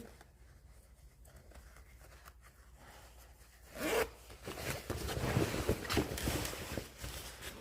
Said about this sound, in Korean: 끝까지 지퍼 여시고, 지금 지퍼가 이만큼 길어요.